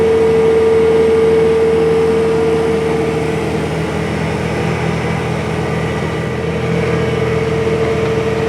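A John Deere 8295RT tractor hums steadily across a field at about five miles per hour, its engine a constant loud drone with a steady whine and no pauses.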